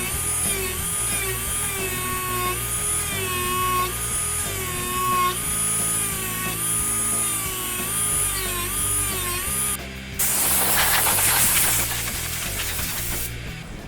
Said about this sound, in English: so I'm going to use a Dremel tool for that